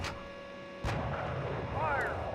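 A single heavy cannon shot from an M1A2 tank in the Steel Beasts Pro PE combat simulator booms out loud and close, its low rumble lingering under steady engine and ambient game noise.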